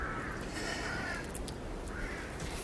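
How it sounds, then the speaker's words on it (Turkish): Crows cawing a few times at a distance, faint calls over a steady background hiss, no one speaking. "Kuşlar geliyor mu buraya?"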